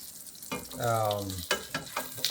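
Breakfast frying in a stainless steel pan that has hot spots: a steady, close sizzle with a brief tonal whine in the middle and a few sharp clinks toward the end.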